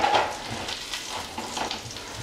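Nuts fry in olive oil in a hot pan, a close, steady crackling sizzle with small bubbling pops throughout and no talk.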